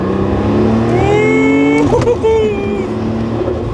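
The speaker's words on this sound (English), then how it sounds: "Let's just get this car into higher gear" A 1990s Porsche 911 Turbo 3.6 pulls hard through the higher gears, engine note climbing steadily, a quick shift break near the middle, then rising again loud and close from inside the cabin.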